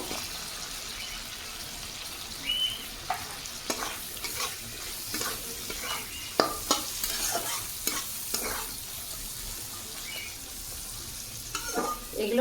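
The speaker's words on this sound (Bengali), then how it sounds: "পেঁয়াজ কুচি দিয়ে দেবো" Chopped onion fries in a pan with a steady low sizzle, broken by scattered scraping and stirring knocks from a utensil; no talking.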